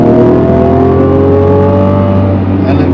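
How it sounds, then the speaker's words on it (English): A Mazda CX-80 SUV with a six-cylinder mild hybrid engine accelerates hard toward 100 km/h, its engine note rising steadily and loudly before easing off at the end. "we just powered up to the 100 there like nobody's business"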